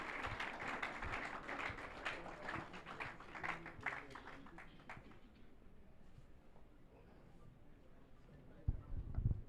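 Applause for a department head at a university freshers orientation, moderate clapping that fades after about five seconds into quiet room noise with a few thumps.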